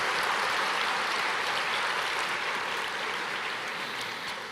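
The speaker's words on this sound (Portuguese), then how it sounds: "Aplauda o Senhor." A church congregation applauds during a sermon, producing a thick, continuous roar of clapping like rushing rain that holds steady and then tapers slightly at the close.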